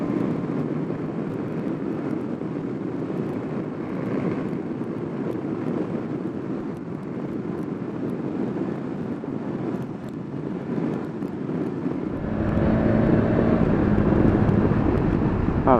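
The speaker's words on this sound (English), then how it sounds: "The wind just gets a bit noisy with the peak on it." Wind roars steadily around the rider of a BMW S1000XR motorcycle on the move, a broad continuous rush that swells louder and rougher in the last few seconds, with no voices.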